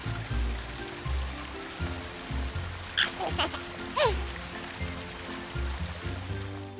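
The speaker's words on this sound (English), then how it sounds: "I'll turn on the water for Annie" Water runs from a tap into a toy baby-doll bathtub, a soft, steady trickling hiss under quiet background music, broken by a few short squeaky chirps midway.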